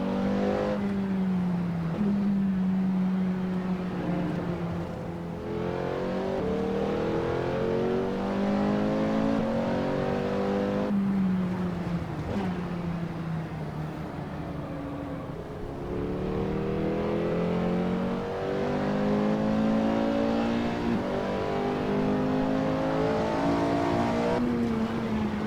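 A Porsche 918 hybrid supercar in Assetto Corsa revs repeatedly, its engine climbing in pitch through the gears and then dropping back before rising again, loud and steady with no voices.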